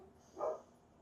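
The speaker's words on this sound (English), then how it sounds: "So sorry the dogs are barking." A single short, faint dog bark pops up briefly in an otherwise quiet indoor room.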